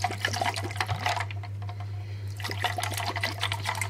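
Water trickles and splashes in a steady pour onto sugar for a homemade drink, pausing briefly midway before resuming, over a low constant hum.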